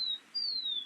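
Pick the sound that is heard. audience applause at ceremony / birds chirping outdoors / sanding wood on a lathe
birds chirping outdoors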